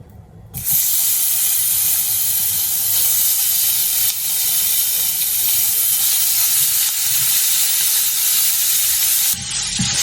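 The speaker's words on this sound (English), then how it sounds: "Stir fry the minced pork" Minced pork stir-frying in a hot oiled pot, a loud, steady broadband sizzle that starts abruptly and holds close and constant for about nine seconds before cutting off near the end.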